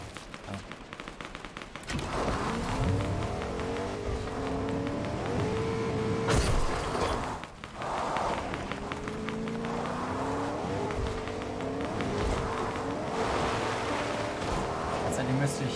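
An off-road car in a video game climbs a mountain, its engine roaring continuously and loudly with rattling bursts and tire noise, and someone talks over it at times.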